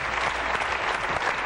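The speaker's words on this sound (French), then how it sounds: "Bravo, on peut les applaudir très très fort" Studio audience of the French TV game show "Passe à ton voisin!" applauding contestants, a brief, dense burst of many hands clapping at full, even strength with no voices.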